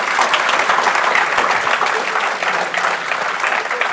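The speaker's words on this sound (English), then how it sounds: "That may be the applause line." Town hall audience with Congressman Jim Himes breaking into strong, sustained applause; dense, loud clapping from a sizeable crowd fills the room without a break.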